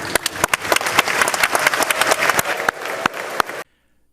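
Applause fills a joint session of the US Congress for the President of the Republic of Korea, with loud, dense clapping and sharp individual hand claps close by, ending abruptly in silence.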